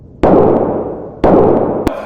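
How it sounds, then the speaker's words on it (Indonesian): Two loud gunshots ring out about a second apart, each with a long echoing decay, followed by a sharp metallic click. "Dengan mengikuti teknik Austin, Michael akhirnya bisa menembak tepat sasaran."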